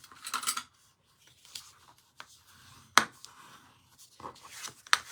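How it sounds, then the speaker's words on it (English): Folding cardstock for a card with a bone folder, a few close, quiet paper creases and scraping rubs separated by pauses, with one sharper crisp stroke near the middle and another at the end. "We'll fold that and use our bone folder here."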